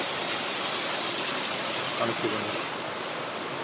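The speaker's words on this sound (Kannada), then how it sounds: "ಇಲ್ಲಿ ಫಾಲ್ಸ್ ರೀತಿಯಲ್ಲಿ ಹೋಗ್ತಾ ಇದೆ" Water rushes over the rocks at Bheeman Falls in a steady, full hiss that runs unbroken, while someone speaks briefly over it.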